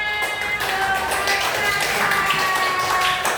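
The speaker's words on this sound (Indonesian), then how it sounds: "kita beri aplaus tepuk tangan" A classroom of students claps hands together in a dense, continuous patter of close, overlapping claps, with voices mixed in.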